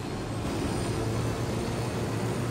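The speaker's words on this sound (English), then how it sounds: "And then you hop into your helicopter." A video game helicopter drones steadily and loudly, a continuous broad engine roar with no breaks and no voices.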